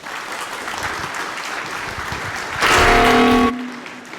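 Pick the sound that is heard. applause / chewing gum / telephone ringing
applause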